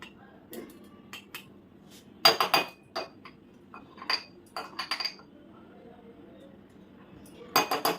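Spoons clinking against dishes while custard powder is measured out in a kitchen, giving sparse, close metallic taps and scrapes in small bursts with quiet gaps between them.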